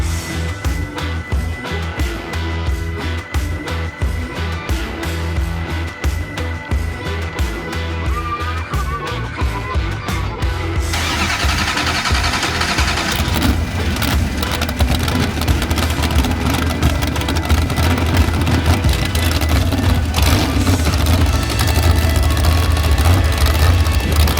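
A big 318 V8 tractor engine at a tractor pull rumbles steadily, then revs up louder and deeper, holding a throaty roar close by.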